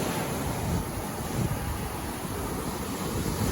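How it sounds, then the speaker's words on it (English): Ocean waves on a Florida beach after high tide with a somewhat large swell, heard as a continuous broadband rush of surf mixed with wind buffeting the microphone. "the waves are a little big, but it's kind of calmed down some"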